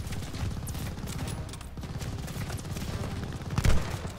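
Machine gun fire in Call of Duty: Vanguard, a continuous rattling burst of rapid shots lasting throughout, with a heavier thump near the end.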